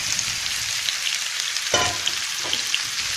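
Potatoes tipped into a hot pan for an English pumpkin ragout, a sudden burst of sizzling that settles into a steady fry, followed by a brief stirring clatter, close and fairly loud.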